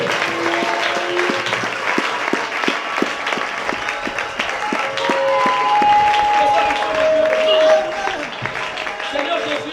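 A church congregation claps and cheers to acclaim the Lord during a worship service, sustained loud applause from a crowd with voices rising through it.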